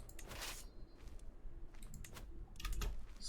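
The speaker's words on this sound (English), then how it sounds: "I keep clicking the wrong buttons here" Mouse and keyboard clicks while playing Crusader Kings 3 on a computer, a scattered run of sharp taps at close range with no talking.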